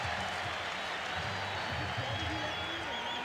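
A large ballpark crowd at the 1992 All-Star Game in San Diego applauds Gary Sheffield, steady distant clapping and cheering under a commentator's voice.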